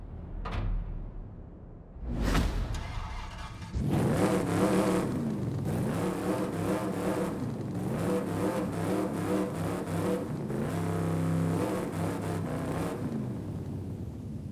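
A door thuds and a few mechanical clicks sound, then a Lincoln Continental in Forza Horizon 5 fires up. Its engine revs and settles into a loud, sustained, throaty idle with rising and falling rev swells.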